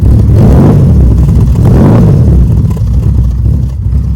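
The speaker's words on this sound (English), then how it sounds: "you can hear its race-bred engine roaring away" A loud TVR T350T sports car's race-bred straight-six engine roars steadily up close, a deep throaty rumble that swells and eases slightly without a break.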